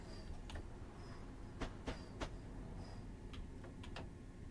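A passenger train on the Chatham Main Line in Train Simulator Classic rolls along with a steady low rumble. Irregular light clicks and ticks of the wheels on rail joints rise above it, with no voices.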